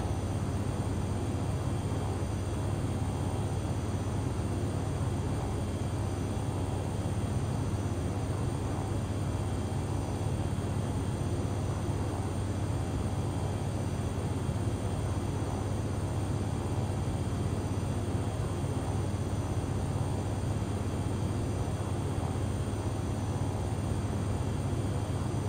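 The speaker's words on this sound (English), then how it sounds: "initiate the reversers" Thrust reversers are engaged in the FSX flight simulator on a flight from Yola to Jos, Nigeria, producing a steady, unbroken engine roar with a low droning hum that stays even and loud throughout, with no voices.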